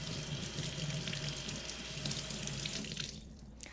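Dusty squash is rinsed under a running kitchen sink tap: a steady, close rush of water that cuts off abruptly just before the end.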